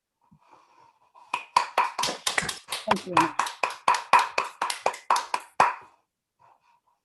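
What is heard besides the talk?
online audience applauding after a talk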